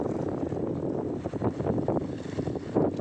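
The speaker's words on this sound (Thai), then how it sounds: "เสียงน้ำทะเลกระทบฝั่ง" Sea waves washing onto the shore at night on the Chanthaburi coast, a continuous, rumbling wash with gentle swells, fairly loud and close, mixed with wind buffeting the microphone and no voices.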